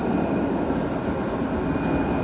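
Train rumble at Redfern underground station in Sydney, a steady loud rolling roar with a faint high whine running through it, sustained for the whole stretch with no voices.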